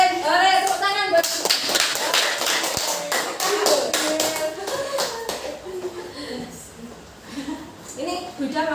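Schoolchildren in a classroom give a burst of hand clapping, many close, sharp claps that fade out, with children's voices heard around it.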